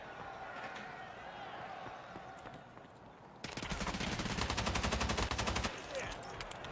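Gunfire in an Innit Masters elimination match on the Airpit map: after a quieter stretch, a dense, loud fusillade of rapid automatic shots runs for about two seconds, then eases off, with a commentator's voice over it.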